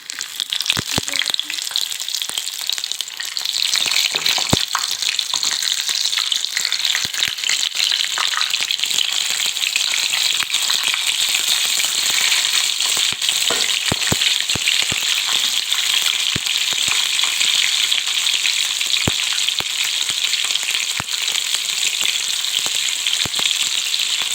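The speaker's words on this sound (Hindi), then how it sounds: "फ्राई करेंगे, जब तेल एकदम खौल जाए तब डालेंगे चिकन" Chicken pieces fry in very hot oil with a loud, dense, continuous sizzle full of crackling pops. It stays close and steady throughout, with no talking.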